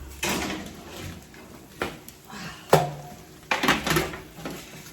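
An oven door opening and a sheet pan of roasted cod and vegetables being pulled out: a scattering of metallic clanks, thuds and scrapes at irregular intervals, with one sharp clang in the middle, close by and moderately loud.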